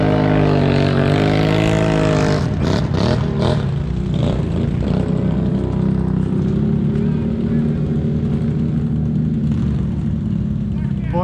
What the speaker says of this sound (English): So many bikes running big bores, nitrous